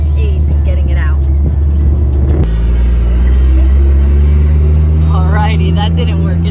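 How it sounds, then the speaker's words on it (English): A side-by-side UTV engine drones loud and close during an off-road recovery tow. The heavy rumble shifts pitch partway through and keeps a steady roar, with voices talking over it. "So the side-by-side that's getting tugged is in neutral and two-wheel drive."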